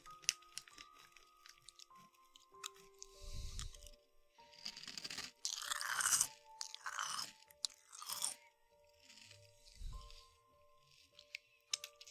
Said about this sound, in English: it's hard to beat the original potato chip when it comes to ASMR crisps